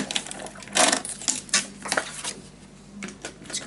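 Paper for a scrapbook mini album is cut with a series of crisp, close snips and rustles, coming in irregular bursts with handling noise between them.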